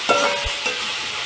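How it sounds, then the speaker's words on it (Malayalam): Sliced onions sautéing with salt in a pan for a coconut milk shrimp roast, giving a soft sizzle with a few brief stirring scrapes, close and quiet, with no talking. "ഇങ്ങനെ വഴറ്റി കൊടുക്കുക കേട്ടോ."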